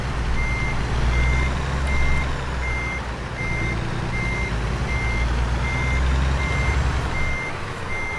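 A truck's reversing alarm in American Truck Simulator beeps in a steady, evenly spaced rhythm over a continuous low engine rumble.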